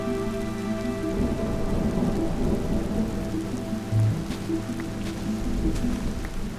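Steady rain falls through a Minecraft thunderstorm, a constant wash of drops with a low rolling thunder rumble underneath, moderately loud and with no voices.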